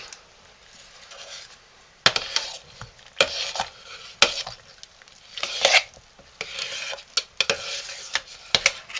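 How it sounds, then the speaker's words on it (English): A homemade lye soap mixture made with coconut milk is stirred in a pot, giving irregular bursts of scraping strokes against a quiet background. "Okay, Phillips, stir that up."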